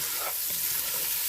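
Chopped onion frying in a pot for smokehouse chili, stirred with a steady hiss and faint utensil scrapes, close and continuous.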